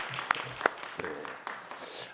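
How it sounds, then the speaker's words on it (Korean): A church congregation gives scattered, light applause of encouragement, a few sharp claps in a quiet room under faint murmuring that tapers off quickly. "격려의 박수"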